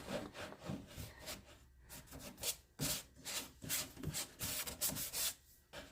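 Ribbed cloth rubbing paint off a wooden desk makes repeated rough scrubbing strokes in an uneven back-and-forth rhythm, close and fairly loud, with no talking.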